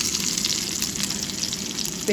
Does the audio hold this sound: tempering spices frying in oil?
yes